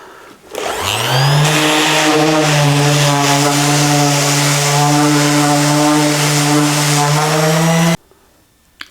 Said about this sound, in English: I've got a Bosch professional sander which has got its own dust collection system on the back